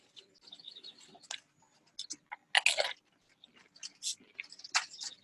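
Close, crisp crunching bites into fresh peach salsa, several short bursts of chewing in irregular rhythm with small quiet gaps between them, no talk over it.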